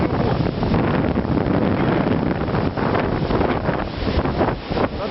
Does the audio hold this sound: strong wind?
yes